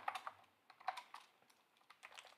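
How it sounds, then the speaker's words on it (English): Quick typing on a computer keyboard, soft irregular key clicks in short bursts, close and quiet, with no voices. "So I'm just going to quickly type"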